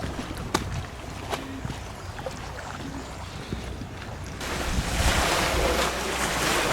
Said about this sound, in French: C'est apaisant d'entendre cette eau.